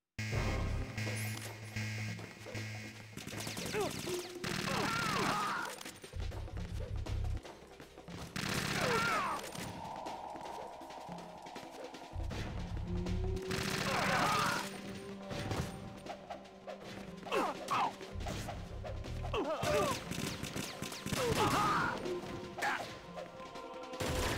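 Rapid gunfire in Metal Gear Solid 2 Substance on the Tanker-Plant stage, with repeated fast bursts and crashing impacts that stop and start across the stretch amid other game sounds.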